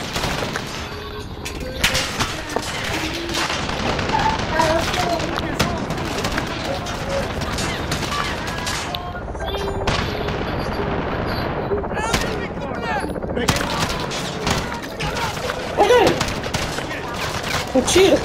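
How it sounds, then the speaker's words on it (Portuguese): Dense gunfire from the video game Call of Duty: Modern Warfare, with rapid bursts and shots crackling nearly nonstop, loud and up close, over a busy battlefield din with brief lulls. "Um tiro que eu errei."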